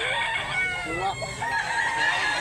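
A rooster crows loudly and close by, one drawn-out call with clucking fowl around it and a hint of voices in the background.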